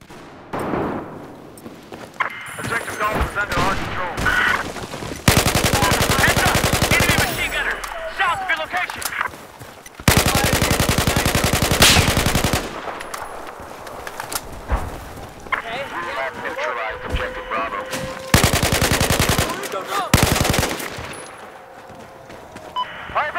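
Bursts of automatic machine-gun fire in the video game Battlefield 4 come in several long rapid volleys separated by quieter stretches of game noise and voices.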